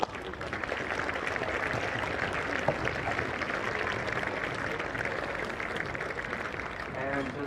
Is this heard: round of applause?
yes